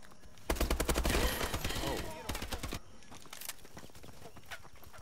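Gunfire in Call of Duty Advanced Warfare, a dense burst of rapid shots followed by scattered single cracks, close and loud, with faint talk beneath.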